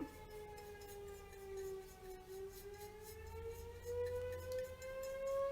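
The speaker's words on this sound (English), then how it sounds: "You guys probably hear the sirens." A fire station siren wails, rising and falling steadily in the distance, its tone slowly climbing, with a low rumble underneath and no one speaking.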